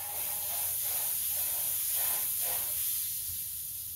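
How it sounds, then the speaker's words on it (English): Butter sizzling in a very hot frying pan for a tuna melt, a loud continuous hiss rising and falling in soft waves, close up with no talk. "See, it's just melting my butter."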